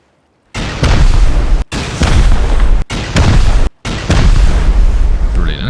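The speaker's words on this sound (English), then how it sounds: "That rocket will have destroyed his respawn point." Loud, booming rocket explosions from a base raid in a survival video game, four big blasts in quick succession with brief gaps between them, close and heavy with low rumble.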